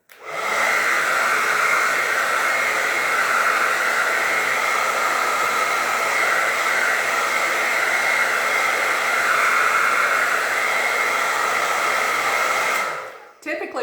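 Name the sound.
hair blow dryer drying face mist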